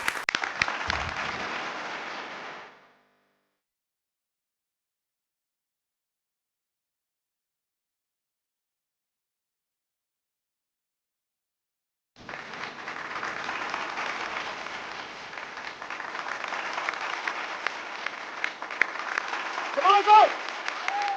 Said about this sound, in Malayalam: വലിയൊരു കൈയടി കൊടുക്കാം